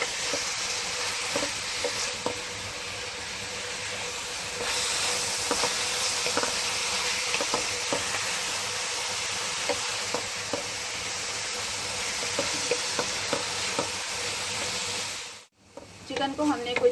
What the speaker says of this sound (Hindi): चिकन को हमने कुछ देर तक भून लिया है।